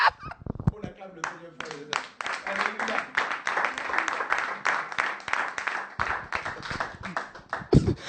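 Congregation in a church service breaking into loud, sustained applause, dense clapping from many hands lasting several seconds, with some voices and chuckles mixed in.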